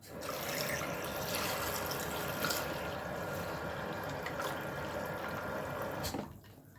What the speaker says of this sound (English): And we'll get some cold water on them.